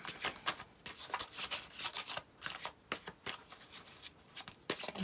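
Tarot cards are shuffled by hand up close, a quick series of crisp riffling and sliding bursts in an irregular rhythm, with no talking.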